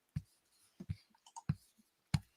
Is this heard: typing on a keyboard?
yes